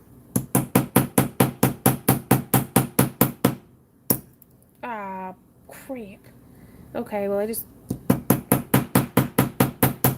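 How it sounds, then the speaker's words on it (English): Rapid, steady metallic hammer blows on a craft bead ring out close by, pause while a person speaks briefly, then resume in the same quick rhythm. "that's what happens when you hammer a bead"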